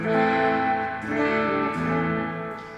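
Electric guitar chords from a Gretsch G5410T with P90 pickups ring out with a gritty, slightly distorted edge, played loudly with a few strummed changes and no voices.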